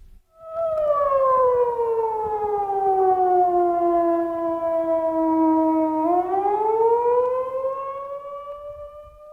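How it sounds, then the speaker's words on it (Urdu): A siren wails at night as one loud, continuous tone that slowly falls in pitch, then swings back up and holds before fading slightly, with nothing else audible. "میں ایک رات گہری نیند سو رہا تھا کہ اچانک سائرن بجا۔"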